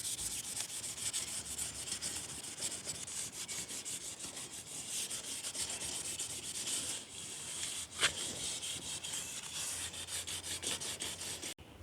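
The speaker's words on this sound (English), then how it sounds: "it's just a light sanding, and you're not causing too much abrasion on the metal" Light hand sanding of metal patio chairs with fine wet sandpaper, a close, steady rubbing and scraping that runs continuously with short strokes and one sharper scuff midway.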